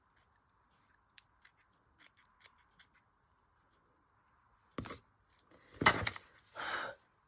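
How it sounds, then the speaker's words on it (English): Scissors trim stringy fabric close up: a few faint ticks at first, then several loud, crisp snips near the end. "Let's give it a trim."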